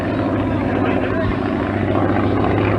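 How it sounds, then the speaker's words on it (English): An airplane engine runs on the ground at an airshow, a dense, steady propeller drone with rough low throbbing that stays loud and close the whole time. "I don't like to hear an airplane do that on the ground"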